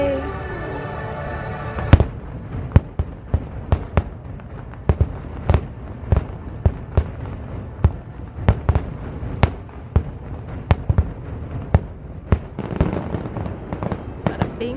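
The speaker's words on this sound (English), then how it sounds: "I like it when fireworks do that." Fireworks burst one after another over Disney's Grand Floridian Resort at night, a run of sharp distant pops and booms in an irregular rhythm, with brief voices at the start.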